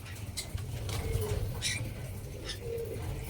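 A breeding pair of spangle budgerigars kept as pets makes soft chirps and short warbling calls at close range over a low background murmur.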